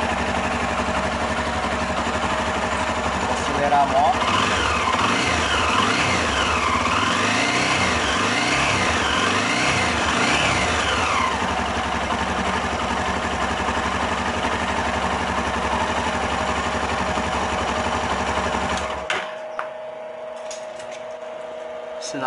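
Honda CB 300R motorcycle engine running steadily in a workshop during a fuel-injection service, loud and close with a couple of revs early on, then cut off abruptly near the end.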